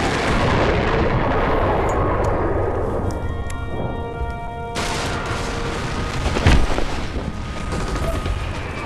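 Sniper rifle gunshot in the Sniper Elite V2 video game, a single sharp boom that cuts through a dense rumbling battlefield din with a ringing musical tone, fairly loud and close, no talking.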